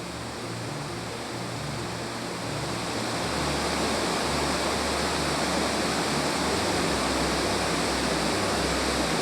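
Waterfall on a salmon river, fast-flowing water roaring as a dense, steady broadband rush, continuous and close with no voices.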